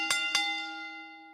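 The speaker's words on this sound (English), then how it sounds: "The bell, I just double-clicked it by accident." A bell on a wrestling review show is struck twice in quick succession as a sound effect, two close clangs followed by a clear ringing tone that slowly fades out.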